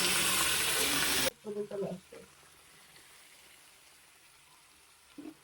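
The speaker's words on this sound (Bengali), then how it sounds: "মটনটাকে ভালোভাবে কষবো যতক্ষণ না মটনের কালারটা চলে না আসে" Mutton frying in ginger-garlic paste gives a loud, dense sizzle that cuts off abruptly after about a second, followed by a few brief clattering knocks and a quiet stretch.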